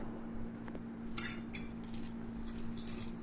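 Salad tossed with dressing in a bowl gives soft, quiet stirring and squishing with a couple of sharp clinks of utensil on the dish, close and faint over a steady background hum.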